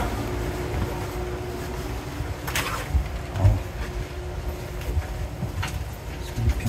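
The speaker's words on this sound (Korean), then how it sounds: "기차가 지금 들어와주는 덕분에" A passenger train rolls into a Washington DC station platform with a low continuous rumble and a few sharp metallic squeals and clanks, moderately loud and close.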